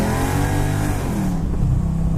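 A 2003 Mercedes AMG SL55 accelerates hard on kickdown, its engine loud and close with a rising roar that shifts partway through and carries on strongly.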